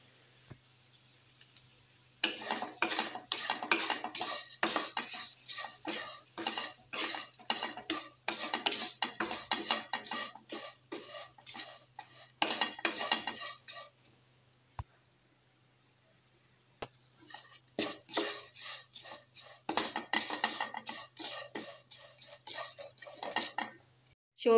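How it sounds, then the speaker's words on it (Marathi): Vermicelli frying and being stirred in a pan with dry-fruit pieces for Goan Konkani kheer: a dense run of clattering spoon-on-metal scrapes and taps, close and steady, pausing briefly midway before resuming, with no talk. "हांव घालता शेवयो आणि बऱ्यो कलर चेंज जाता म्हणसर फ्राय करून घेता."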